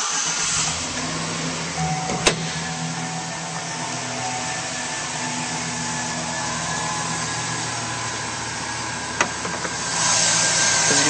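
A 2010 Chevrolet Silverado 1500 pickup with a 5.3-liter engine idles with a steady, even hum and hiss, continuous throughout with a couple of faint clicks.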